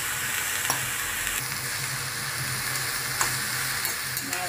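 Beetroot and grated coconut stir-fry in a pan with curry leaves, a dense, loud sizzle running continuously while a spoon stirs with occasional light scrapes and taps.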